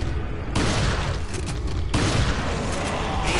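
Gunfire rings out in the video game Resident Evil 4 as loud, broadband blasts, with a heavy booming burst at the start and another near the two-second mark, all close and with no talking.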